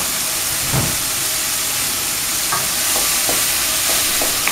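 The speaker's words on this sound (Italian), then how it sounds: "lascio cuocere i funghi per una ventina di minuti" Mushrooms cooking with cream in a pan for ravioli filling: a steady, loud sizzle and hiss with a few soft stirring scrapes throughout, close up and without talk.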